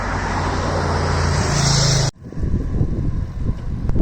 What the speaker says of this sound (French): il y a vraiment beaucoup de voitures sur des routes un peu reloues